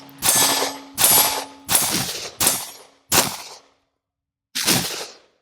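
Smith & Wesson M&P Shield pistol fired outdoors: six loud, sharp gunshots, five in a steady rhythm about a second apart, then a pause before the last, each leaving a short decaying echo.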